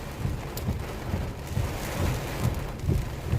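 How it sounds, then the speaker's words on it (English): Heavy rain pours down outside a parked car, a steady dense patter with soft low thumps of drops on the surface, moderately quiet and with no voices. "so it's raining and nobody wants to get out the car first"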